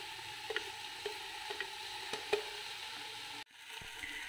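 Mint and coriander fry in a pan while a spoon stirs them, giving a soft steady sizzle broken by several light scraping strokes before the sound drops away.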